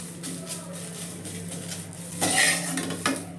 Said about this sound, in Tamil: அதனால் நான் எல்லாமே ட்ரையாக வறுக்கிறேன்.